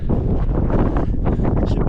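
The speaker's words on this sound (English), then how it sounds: "And the wind coming in strong." Strong wind buffets the microphone at the snowy, icy summit of Mount Teide on Tenerife, a loud, continuous roaring rush with no break across the short stretch.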